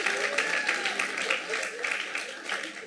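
A church congregation applauds in praise of the Lord, a steady patter of many hands clapping together for a few seconds at moderate volume, with voices mixed into the ovation.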